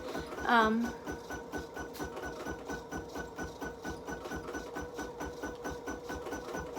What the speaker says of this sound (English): get this 770 to start stitching